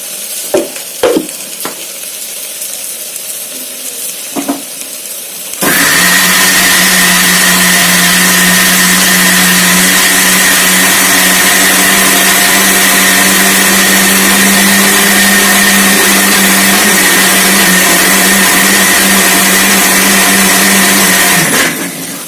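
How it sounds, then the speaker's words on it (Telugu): A mixer grinder grinding masala paste with water starts abruptly after a few quiet seconds of small kitchen clatter, then runs as a loud, steady motor whine with a churning roar for about sixteen seconds before cutting off. "మిక్సీ పట్టేసుకుందాం."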